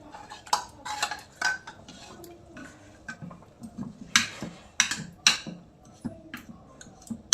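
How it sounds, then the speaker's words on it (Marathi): A spoon works through cooked vegetables in a pot, mashing and stirring with repeated metallic clinks and taps against the sides, close and moderately loud, irregular in rhythm with no talk. "चमच्याने असं हलवून मॅश करायचं"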